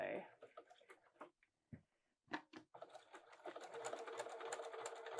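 Domestic sewing machine back stitching along a fabric edge for children's pajamas, running in short bursts and pauses before settling into a steady close stitching whir.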